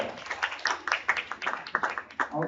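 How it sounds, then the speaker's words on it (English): Audience clapping and applause at the close of an English speech contest, a light scatter of hand claps at moderate distance, fairly sparse and uneven over a couple of seconds. "So one final round of applause to everybody involved today."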